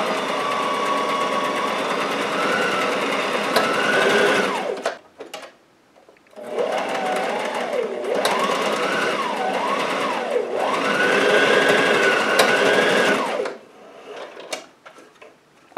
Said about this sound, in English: sew my shoulder seams together and backstitch at the beginning and ending of both